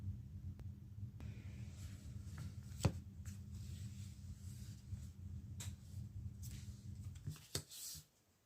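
Tarot cards are shuffled in a quiet room, soft steady riffling and rustling, faint and close, with a few sharper taps near the end.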